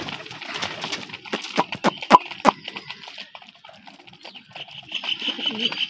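Hungry pet pigeons coo softly around feeding time, layered cooing from several birds close by with sharp clicks and flutters among them.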